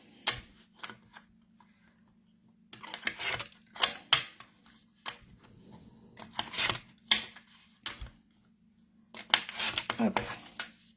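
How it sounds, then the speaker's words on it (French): Paper corners being snipped with a corner cutter tool while making a bound origami mini album: a series of short, crisp clicks and crunches, close and fairly loud, spaced irregularly with short pauses between cuts, over a faint steady hum. "j'ai mon outil ici pour couper mes coins"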